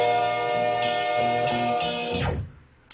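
A chopped music sample from a sound kit loaded in FL Studio plays loud and full, with layered sustained tones and rhythmic chord hits, then cuts off abruptly and fades near the end.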